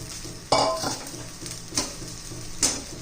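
Half-cooked potatoes tumble into a hot frying pan and are stirred, giving a steady sizzle of frying with a few sharper scraping bursts from the spatula at irregular intervals, close and clear with no talking.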